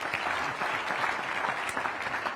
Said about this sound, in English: You can applaud at that, ladies and gentlemen.